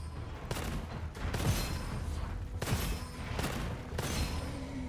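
Explosive-bullet gunfire in the video game Gunfire: a run of loud, close shots in irregular bursts spread across the stretch, with blasts punching through a constant rumbling game backdrop.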